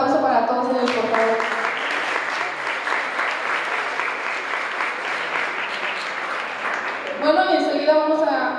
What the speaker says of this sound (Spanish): Un aplauso para todos ellos, por favor.